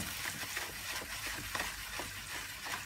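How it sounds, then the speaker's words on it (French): Steady sizzling and crackling of onions and spices frying in a pan for vegetarian samosas, a dense continuous hiss with faint stirring scrapes, no voices. "Nos oignons et nos épices ont bien commencé à rissoler"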